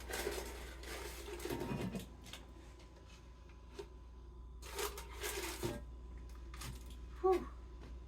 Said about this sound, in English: We're going to put this bread in here. And we're going to put the lid on.